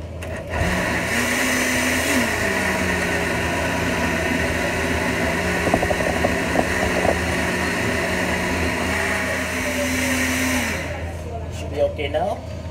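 Kitchen blender whirring steadily as it purees laksam ingredients with tap water, a loud continuous motor drone with a rising start, slight pitch shifts mid-run and a cut-off near the end, alone without talk.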